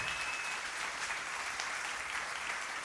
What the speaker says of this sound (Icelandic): gefið manninu gott klapp